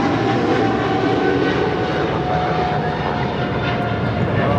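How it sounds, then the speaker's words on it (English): A Japan Airlines Boeing 777 in One World livery takes off from LAX, its jet engines a loud, steady roar that holds close and strong throughout. "That was Japan Airlines Flight 15, 777 in the One World livery, taking off to Tokyo Haneda"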